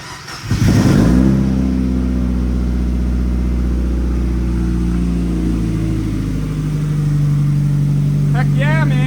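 A Mazda Miata engine fitted with a DIY cold air intake cranks and catches, flares loudly in a quick rev, then settles into a steady idle, with a voice speaking briefly near the end.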